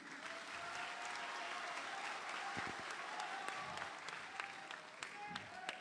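Steady applause from an audience of Medan youth at a political forum, continuous dense clapping with a few sharper claps, moderately distant and holding for several seconds.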